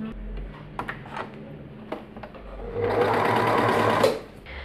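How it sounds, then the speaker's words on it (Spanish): Sewing machine overcasting the side seam of a dress, a few soft ticks and clicks, then a loud steady mechanical run of about a second before it stops. "Sobrehilamos la costura."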